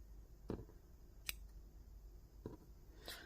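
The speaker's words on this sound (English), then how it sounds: "cut the yarn" Scissors snip through yarn while a crocheted daffodil granny square is finished: about four short, quiet, crisp cuts spaced irregularly over a soft background.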